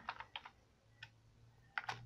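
Keys clack on a computer keyboard while a command is typed into a Windows disk utility, a few quick, quiet taps in small bursts with pauses between, close and alone over a low hum.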